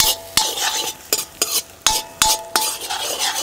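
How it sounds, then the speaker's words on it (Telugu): Two large onions, cut into pieces, frying in hot oil for a country chicken fry, with a soft steady sizzle punctuated by about eight sharp, rhythmic clanks of a spatula stirring against the pan, close and loud, no voices. "నూనె వేడెక్కిన తర్వాత కోసి పెట్టుకున్న 2 పెద్ద సైజు ఉల్లిపాయ ముక్కలు వేసుకుందాం"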